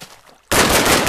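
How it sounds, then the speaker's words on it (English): An STG assault rifle from a World War 2 guns video game mod fires a sudden loud burst after a brief quiet moment, a dense rapid stream of sharp shots. "first we have the STG, which is probably one of the more accurate and fast firing weapons."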